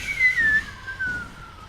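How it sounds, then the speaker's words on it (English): A person whistles a short, faint, breathy tune close to the microphone, a few wavering notes that slide downward and trail off, alone. "That was a really pathetic whistle."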